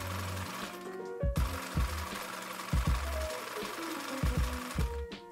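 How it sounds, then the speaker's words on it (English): Sewing machine zigzag stitching elastic onto fabric for a summer crop top, running in steady mechanical bursts with rhythmic thumping needle strokes, brief pauses between runs, close and without talk. "zigzag stitch 2 12 inch or 30 centimeter elastics on the top and bottom, always stretching or pulling to the max as you sew"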